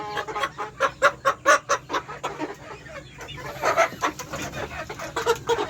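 Repeated clucking from a rooster, a quick run of sharp clucks, a short pause, then more clucks, fairly close and clear.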